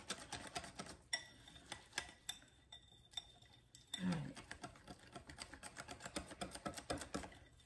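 Pancake batter whisked briskly in a bowl, giving a fast, even run of light metallic clicks and ticks that carries on throughout, close up. A voice briefly cuts in partway through.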